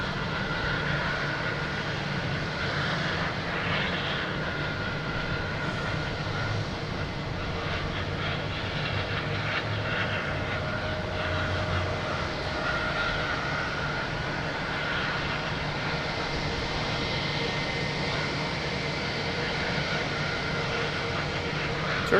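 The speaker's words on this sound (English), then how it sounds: "Turkish Airlines coming in from Istanbul. An A350-900, flight 81" A Turkish Airlines Airbus A350-900 arriving at Boston Logan on flight 81 from Istanbul, a steady broad jet roar that holds at an even level for the whole stretch, sounding moderately distant with no talk over it.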